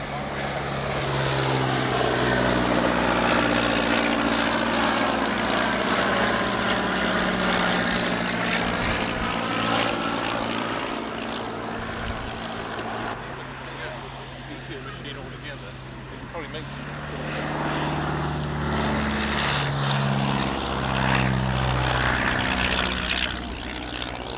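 A 130 hp de Havilland Gipsy Major vintage aircraft engine at Old Warden drones steadily with a propeller buzz, loud and close for the whole stretch, rising and falling slightly in pitch as the aircraft moves.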